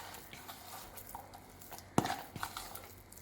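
A spoon stirs jackfruit ada filling seasoned with salt, grated coconut and cardamom powder in a bowl, giving soft scraping and patter with one sharp utensil clink partway through. The sound stays quiet and close, with no speech.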